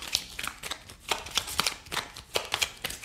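Cards are drawn and handled from a deck of oracle cards in a quiet close-up run of soft slides, flicks and riffles, without talk.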